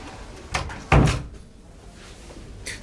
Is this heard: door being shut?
yes